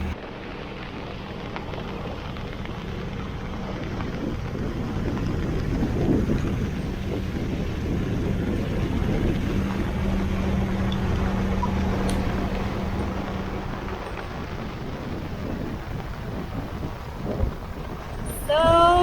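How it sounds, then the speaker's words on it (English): Rain and strong wind at sea as a boat approaches a harbour, a constant broad wash of noise with rumbling gusts swelling and fading, ending in a brief clatter. "Just as we were approaching, it started raining."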